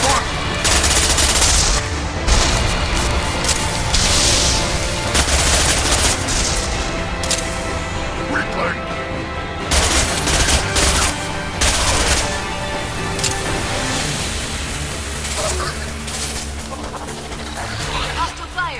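Sustained gunfire in a Mass Effect 2 squad battle, with bursts and rattling shots layered over a dense, loud combat din, while voices speak intermittently.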